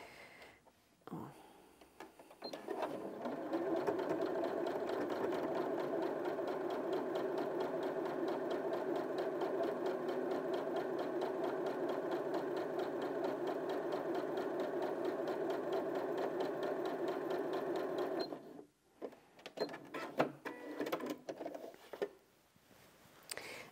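Janome 5060 QDC sewing machine stitching fabric, a steady close hum with rapid needle patter running for about fifteen seconds, then stopping, with quieter handling noises before and after.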